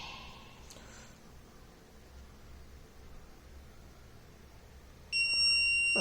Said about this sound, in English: So the buzzer will be on